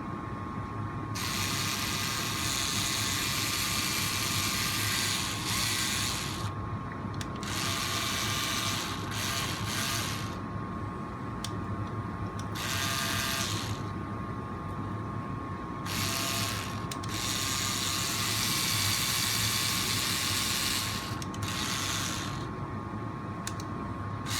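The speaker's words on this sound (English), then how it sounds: "Now we're going to take another one of our longer screws and get it started in this back hole." A long screw is driven into the rear axle of an Extreme RC CR12 4x4 crawler, giving a steady, close, continuous whirring ratchet of a small driver with brief pauses between bursts.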